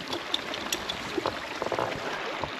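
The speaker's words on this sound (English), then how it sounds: "I think Miso likes her new creek on her property" A small spring-fed creek on newly bought rural property flows with a steady, close wash of trickling water, broken by a few brighter splashes and gurgles.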